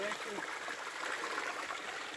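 A small waterfall runs down a mountainside on the Appalachian Trail, giving a steady, moderately distant rush of flowing water with faint trickling detail and no break in the sound.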